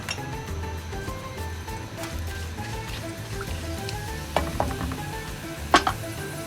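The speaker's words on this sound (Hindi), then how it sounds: "अब ये हमारा ऑयल गर्म हो गया है तो मैं इसके अंदर ये ज़ीरा ऐड कर दूँगी।" Cumin seeds sizzle in hot cooking oil in a pan on medium heat, a steady soft frying hiss with a few sharper pops and clinks toward the end.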